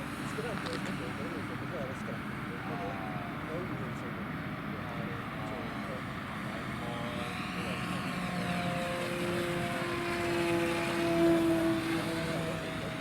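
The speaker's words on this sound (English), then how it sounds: "Nice plane you have there, Chef Man." A model Cessna airplane with an electric ducted fan flies overhead, its engine whine droning on and swelling as it passes closer, while people chat nearby.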